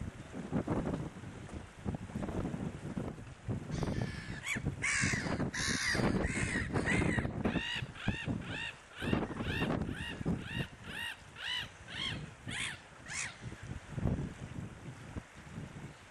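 Seagulls and swans calling across a salt marsh at Keyhaven, a run of repeated harsh cries in quick succession through the middle, with steady wind noise buffeting the microphone throughout.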